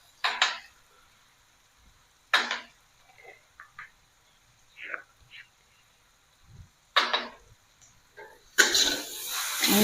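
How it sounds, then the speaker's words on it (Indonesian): Spicy squid with green chili stir-fries in a pan, with sparse metallic clinks and scrapes of a spatula, then a loud hissing sizzle erupting at the end. "Jangan lupa diorak-arik biar bumbunya merata"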